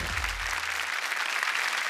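An audience at a village cultural festival on a Marathi TV game show claps in a steady, dense burst of applause, with a low hum fading out early and no talk over the clapping.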